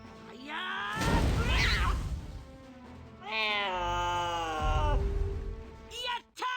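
A cat enemy in the game Digimon Survive lets out long, drawn-out meows and groaning yowls, loud and harmonic, with bursts of battle noise between them.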